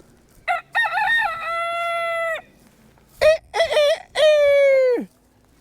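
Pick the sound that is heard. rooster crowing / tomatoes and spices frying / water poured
rooster crowing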